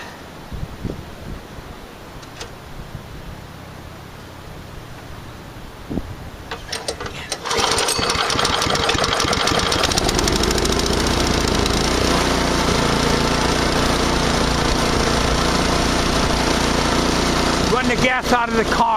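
A snowblower's small engine is started and left running to burn the gas out of the carburetor. After quieter handling and talk, it settles into a loud, steady, rattling drone that holds to the end.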